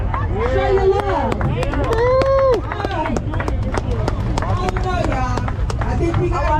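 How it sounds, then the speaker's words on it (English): A car show crowd claps and cheers for a first-place baby blue 1970 Cutlass 442, with whoops and shouted voices riding over scattered sharp claps in a loud, busy outdoor mix. "A round of applause."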